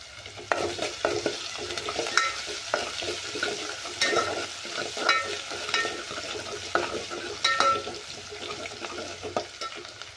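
Onion sautéing with ginger and garlic in a pan for a sour Maharashtrian dal, a steady close sizzle broken by repeated scraping stirs of a spoon against the pan, no voices.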